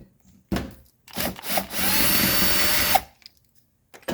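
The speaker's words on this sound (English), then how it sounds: "Let's go ahead and remove these screws. I'm sorry, bolts." A power driver with a Torx bit spins out bolts on a Mercedes 300SD window motor, giving a sharp start, a couple of short whirring bursts, then one sustained grinding run of about a second and a half before it stops.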